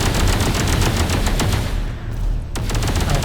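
Rapid automatic gunfire in the video game Space Engineers, loud and dense bursts of shots with a brief lull before firing resumes.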